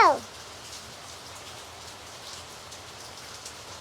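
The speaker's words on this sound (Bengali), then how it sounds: "বাইরে দেখো সকাল থেকে বৃষ্টি দেখাচ্ছ" Steady rain falling, a constant soft hiss of drops on surfaces throughout, preceded by a brief faint sound at the very start.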